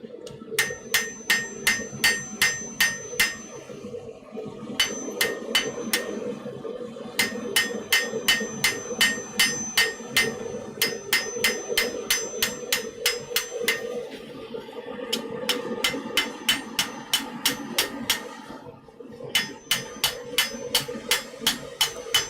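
A blacksmith forges an iron scroll, with bright ringing hammer blows on the anvil coming close and loud in quick, regular bursts broken by short pauses.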